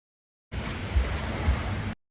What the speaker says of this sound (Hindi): कुछ देर और लाइक हमने एंजॉय किया पानी का साउंड